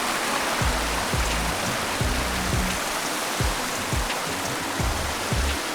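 Mountain stream and waterfalls on a steep alpine slope, a steady broadband rush of water running without a break, with no voices over it.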